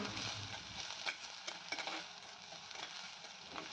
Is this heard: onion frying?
yes